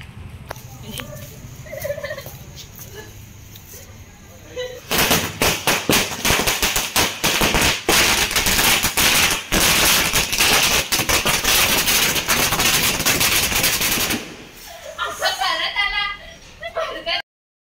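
Strings of firecrackers crackle in long dense rapid bursts at a Ganpati festival celebration, loud and close, with people talking and shouting before and after.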